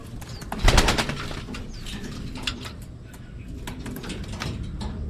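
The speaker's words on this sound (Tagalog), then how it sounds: "Makikita natin mentras lumalayo mga kalapatids" Pigeons taking flight, a brief burst of wing flapping near the start followed by scattered soft flutters and faint bird sounds fading off, no voices.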